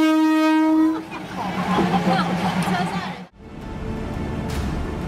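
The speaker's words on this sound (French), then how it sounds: "Lorsqu'un train s'approche, les marchands débarrassent rapidement leurs étals pour faire place à la voie ferrée." Train approaching along a railway track that runs through a market, starting with a loud, sustained horn blast, then the rumbling roar and clatter of the passing cars close by, with voices mixed in.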